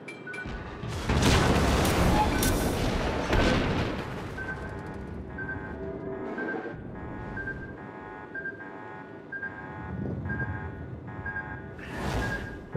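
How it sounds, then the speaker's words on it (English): The Japanese battleship Fuso fires its big guns in World of Warships, opening with several loud, deep booms close together, then a quieter stretch of steady beeping tones, and one last sharp blast near the end. "I see the shots coming out from that Fuso as I'm putting mine in"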